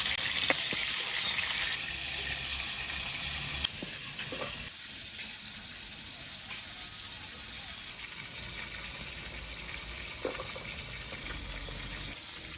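Fish fries in oil in a pan, a steady, continuous bright hiss up close with a few soft clinks, no talking.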